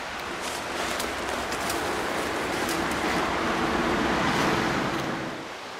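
Laurel Creek runs near an abandoned coal camp, a steady broadband rush of flowing water swelling slightly and then easing near the end, continuous and moderately close with no voices.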